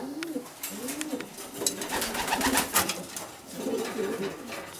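Pigeons in a breeding loft keep up a steady, overlapping cooing, several birds calling close by in a continuous layered murmur of throaty coos.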